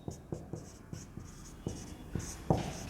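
A teacher writing on a board during a geography lesson, producing a series of distinct taps and scratches in an irregular rhythm, quiet and close, with no talking over them.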